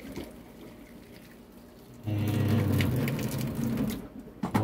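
Water poured out of a cooking pot while making slumgullion: a sudden splashing gush starts midway and keeps running steadily for a couple of seconds after quiet handling noise.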